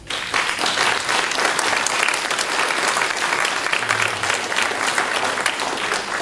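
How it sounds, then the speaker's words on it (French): Guests at a seniors' banquet in Etzling break into sustained, dense applause, a steady wash of many hands clapping close by, with a few voices mixed faintly underneath. "Je pense qu'on peut peut-être les applaudir."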